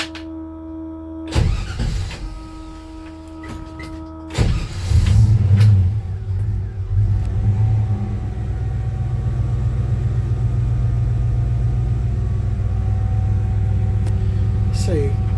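A 1966 Chevy C10 truck engine cranks with a couple of sharp starter bursts, then catches and revs before settling into a steady, close rumbling idle, while someone talks over it.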